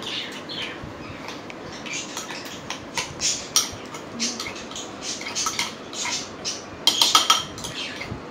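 A spoon scrapes and clinks against a dish while burger sandwich filling is mixed, producing repeated close metallic taps and scrapes in an uneven rhythm, with no talk.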